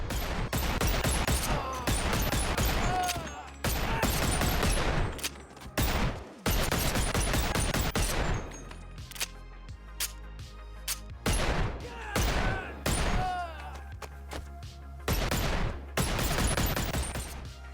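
Guns in Bonelab, modded to fire explosive bullets, shoot in fast repeated bursts, each crack ringing out loud and close, with brief gaps between volleys.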